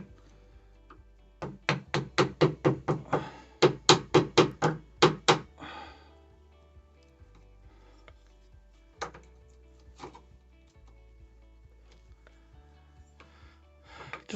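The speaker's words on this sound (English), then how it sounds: "then you start carving. Just like the way I'm doing it right now." Screwdriver used as a chisel, knocked repeatedly into a wooden door edge to carve out the recess for a double-cylinder deadbolt lock: a fast run of about a dozen close, sharp knocks, then a few isolated taps after a pause.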